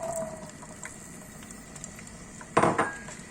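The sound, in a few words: almonds frying in oil in a pan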